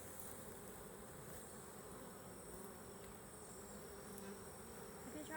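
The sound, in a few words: honey bees at a hive during inspection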